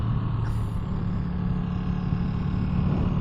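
Ducati Streetfighter V2 motorcycle engine running, a loud, steady low rumble held at high revs up close, continuous and without pauses or voices.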